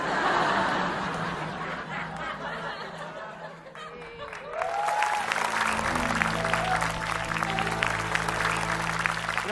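Audience applause and light laughter follow a magic trick involving bending a spoon, a dense clatter of clapping that swells partway through and continues steadily to the end, with some murmuring mixed in.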